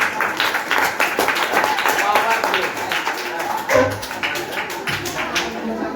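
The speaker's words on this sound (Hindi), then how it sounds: "वाह वेरी गुड, ताली मार दीजिए।" Students in a classroom clap together, a dense, steady patter of many hands filling the room for several seconds, with talk mixed in underneath.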